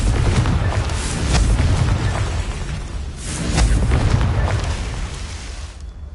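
Repeated Confringo fire spell blasts in the video game Hogwarts Legacy: deep, rumbling booms with whooshing bursts, two loud waves of explosions swelling and fading over several seconds.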